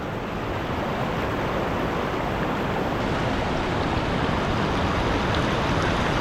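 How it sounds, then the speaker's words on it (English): Waves break on a Scottish beach at Kirkcaldy after a storm, a loud continuous roar of surf and rushing water filling the whole stretch with no voices. "Let's get down and check out those waves."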